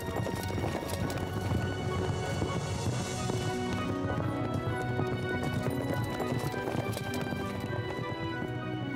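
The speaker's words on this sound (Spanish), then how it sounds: "¡Los caballos!" Horses gallop in a steady, dense clip-clop of hooves with neighing mixed in, loud and continuous throughout, in an animated series about Saint Francis of Assisi.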